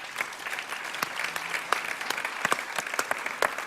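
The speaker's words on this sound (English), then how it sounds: "Please give them all a warm round of applause." A conference audience applauds a panel, dense clapping throughout a fairly short burst, moderately loud and steady with no talking over it.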